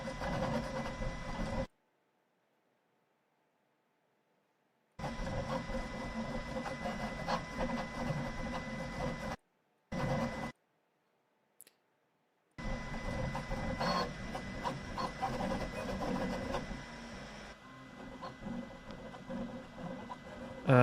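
A Prusa Core One 3D printer runs in bursts with mechanical whirring and a scraping nozzle texture, interrupted by several stretches of silence, moderately loud and close.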